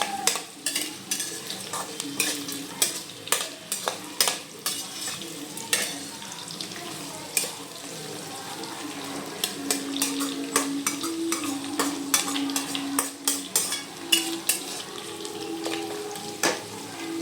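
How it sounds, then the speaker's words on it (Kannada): Onions fry with rock salt in a pan for chicken pulao while a spoon stirs them, giving a steady sizzle under repeated scraping clinks, close and continuous, with no voices. "ಸೊ ಇದನ್ನು ಮಿಕ್ಸ್ ಮಾಡ್ಕೋಬೇಕು ಉಪ್ಪು ಹಾಕಿ, ಆವಾಗ ಅದು ಬೇಗ ಬೆಂದೋಗ್ಬಿಡುತ್ತೆ."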